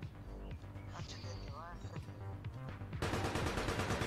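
Gunfire in the online shooter game APB Reloaded, a burst of rapid shots under excited talk, then a loud dense stretch of sustained firing at the end.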